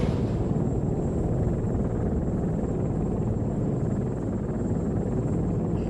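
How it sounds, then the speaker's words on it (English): In the Arma 3 video game, a helicopter flies with a dense, loud rotor and engine roar that stays constant throughout, with a low rumbling drone and a thin high whine above it and no voices. "I really like this chopper because it's able of making really sharp turns and recover from them quite quickly"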